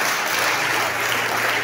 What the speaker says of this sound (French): Donne des acclamations au Seigneur.